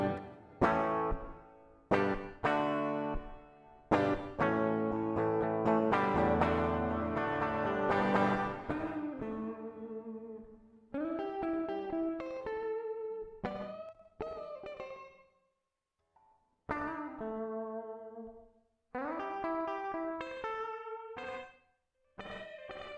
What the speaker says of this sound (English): Reverb delay. So now you've got a delay and a reverb built in together.